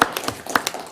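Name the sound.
audience clapping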